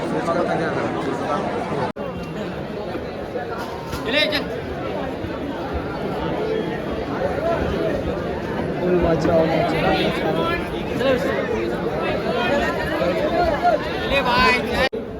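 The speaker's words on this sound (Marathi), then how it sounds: "आता कसं गर्दी तर भरपूर आहे बघा" A dense crowd of devotees queues for darshan of Chintamani, the Ganesh idol, filling the space with continuous close chatter and babble from many voices at a steady level throughout.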